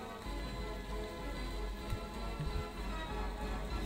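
Rain in the theme park game Parkitect, a steady hiss of falling drops layered under game music and tones, even and moderately loud throughout.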